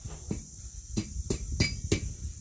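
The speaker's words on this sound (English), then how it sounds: "So put the bar underneath. Right, and then hammer towards you, yep." A steel bar struck with a hammer while being forged into a hook, with five sharp ringing metallic blows at an uneven, unhurried pace, close and clear over a steady high whine in the background.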